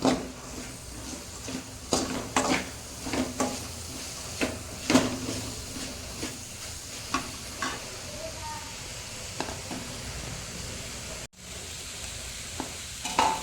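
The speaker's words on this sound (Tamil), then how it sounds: "நல்லா ப்ரௌன் கலர் ஆகிற வரையும் நல்லா வறுக்கணும்" Steady sizzling of food frying in a pan until browned for a prawn gravy, with repeated scraping and stirring clicks throughout.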